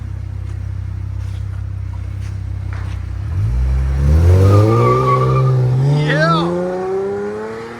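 A 2019 Dodge Challenger SXT with a 3.6L V6 and glass-pack exhaust idles with a deep, steady rumble, then revs up loud and close, the engine note climbing over several seconds before easing off.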